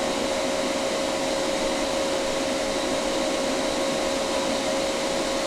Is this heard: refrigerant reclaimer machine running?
yes